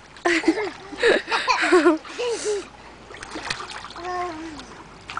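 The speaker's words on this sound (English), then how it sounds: "Good swimming, Jaden." Children swimming and splashing in water, with loud bursts of splashing mixed with children's voices and an adult talking close by.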